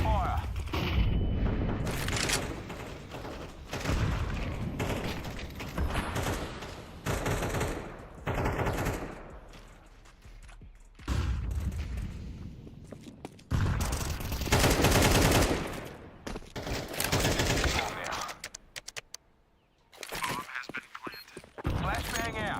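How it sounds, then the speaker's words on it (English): Gunfire in Counter-Strike 2: repeated loud bursts of automatic rifle fire broken by short pauses over a long stretch, mixed with other combat effects, and a player talking between the volleys. "Laying down some fire."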